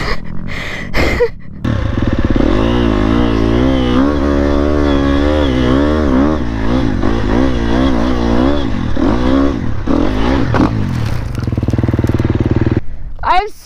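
Dirt bike motorcycle ridden hard on rough terrain near Temecula, its engine droning and revving loudly and steadily for most of the clip, with breathing or speech-like sounds mixed in near the start.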